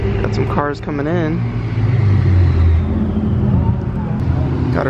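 Red Chevrolet Corvette C8 driving into a gas station, a close, steady engine rumble rising briefly in a rev, with a voice speaking over it.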